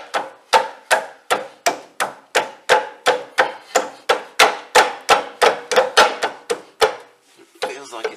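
Steady series of sharp metallic hammer blows on a new rear brake disc of a Land Rover Discovery 3, about two per second, loud and close, continuing for several seconds before a brief pause and a final scraping knock.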